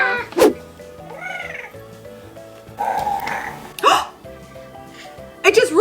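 A Dragon Snacks toy dragon from a kids' family board game lets out electronic growling roars and burping effects in short bursts, close and loud, with people talking over and between the sounds.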